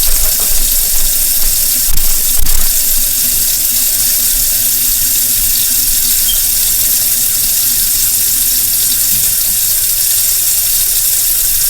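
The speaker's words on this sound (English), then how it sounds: "I had my bath water running." Bath water runs from a tap in a loud, unbroken rushing stream, close and constant throughout with no voices.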